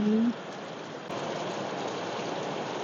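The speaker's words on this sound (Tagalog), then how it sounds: "it's raining outside. Slightly heavy the rain." Slightly heavy rain falls outside on a Monday morning as a steady, even hiss of drops, fairly soft, with a brief voice at the very start.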